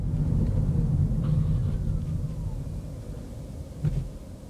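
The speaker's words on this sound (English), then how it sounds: "all I can hear is the fan motor" A steady low hum from the cooling fan motor of a 2021 Nissan Leaf 59kWh hatchback, heard from inside while the car sits stopped at red lights, with a faint rumble of passing traffic and no other noise.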